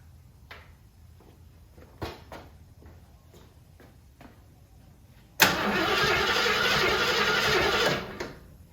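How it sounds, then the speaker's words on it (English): A 1974 AMC Javelin engine gives a few faint clicks and knocks, then cranks and roars to life at close range, running loudly for about three seconds before dropping off. "Go ahead, Samuel, give it a crank."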